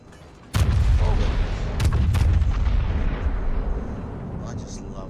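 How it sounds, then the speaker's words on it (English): The battleship Yamato's heavy guns fire in a naval video game: a sudden deep booming salvo with a thudding impact, followed by a long rumbling roll that fades slowly. "I just love the sound of Yamato's guns."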